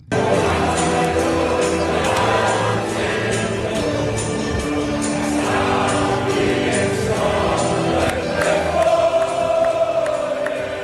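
Large crowd singing together at Fenway Park in Boston during a TV timeout, a dense sustained roar of many voices with a rising and falling chant and scattered claps, loud and continuous throughout as played back.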